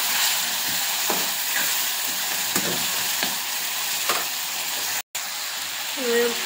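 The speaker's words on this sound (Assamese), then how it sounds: "তাৰপিছত এতিয়া দিম মই কাটি থোৱা বিলাহীখিনি অলপমান লৰাই লৈ" Chopped tomatoes frying in a pan while being stirred, a close, steady sizzle with faint scraping strokes of the spoon on the pan throughout.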